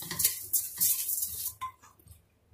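Rice is tipped into a pan for vegetable fried rice with a soft patter and a few clinks of utensil against metal, then fades toward quiet.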